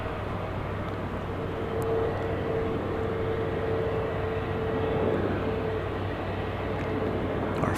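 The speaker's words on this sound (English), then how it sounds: "So it's either taking off in slow motion or it is taxiing to its takeoff position." A Fiji Airways airliner taxiing to its takeoff position at DFW Airport at night, a steady distant jet engine rumble and whine that holds evenly throughout, with no talk.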